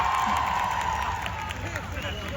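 Audience applause at a cosplay contest at the Mad in Asia convention, fairly quiet and distant, mixed with crowd murmur and some voices, steady throughout.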